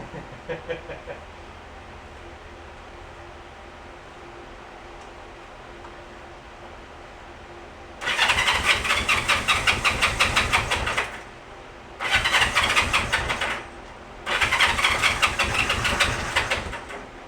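A Honda CB350 motorcycle engine cranks and fires in three bursts of loud, rapid, rough chatter, each cutting off briefly, after a quiet stretch of faint background hum.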